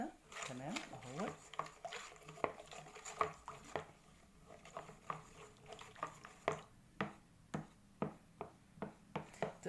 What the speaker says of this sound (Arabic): بعد كده بعمل هقلب المحتويات السائلة دي كلها كويس قوي مع بعضها كده